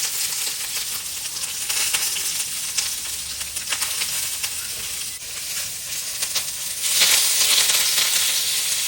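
Fish pieces and curry leaves fry in hot oil on a home stove, giving a steady bright sizzle and crackle that swells louder toward the end, with no talk over it.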